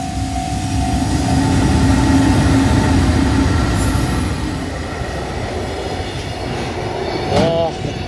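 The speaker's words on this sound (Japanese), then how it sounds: "お、北海道方面から来た貨物列車ですね。" Freight train from Hokkaido hauled by an EH800 locomotive passing near a level crossing, a loud sustained rumble with rhythmic wheel clatter and a brief wheel squeal near the end.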